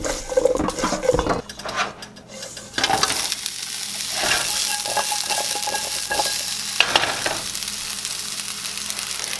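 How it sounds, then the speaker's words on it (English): Oil-coated asparagus spears land in a hot pan. A burst of clattering and scraping comes first, then a loud, steady, close sizzle continues, with occasional utensil knocks on top. "All right, asparagus go in the pan."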